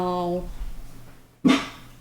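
A small dog in the game Firewatch gives one sharp, close bark near the end, after a stretch of low tonal hum and quiet background.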